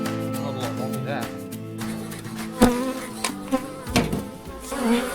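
Honey bees humming and buzzing around an open beehive during an inspection, a steady droning hum with close, rising buzzes and occasional knocks, heard beneath people talking.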